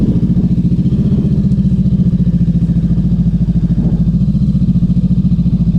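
A motorcycle engine chugs loudly and steadily as the bike is ridden off-road on wet, slippery ground, its rhythmic pulsing close and continuous throughout.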